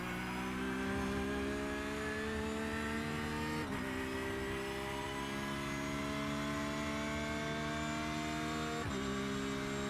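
A Porsche GT3R race car in the iRacing video game lapping Interlagos, its engine droning loud and steady while pitch climbs through the gears, with two clear upshift breaks where the revs drop and rise again.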